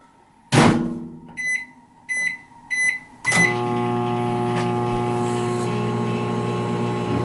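A microwave oven running at full power gives a sharp start, three short beeps, then settles into a steady, loud hum that continues alone to the end.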